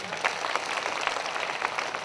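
Congregation clapping at a Hindi-language Christian prayer meeting, a steady dense wash of many hands applauding together with no clear pauses and faint voices mixed in.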